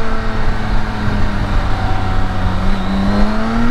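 A 2022 BMW K1600 motorcycle with an ECU flash tune accelerating on the road, a loud, close, steady engine drone with rising pitch as it pulls, heard alone without talk.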